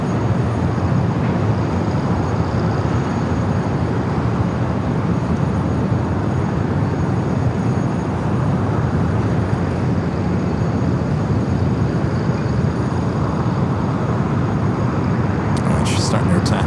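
An Airbus A350-900 airliner, six years old and bound for Singapore, begins to taxi at LAX, giving a steady, broad, loud roar of jet engines that holds without a break throughout.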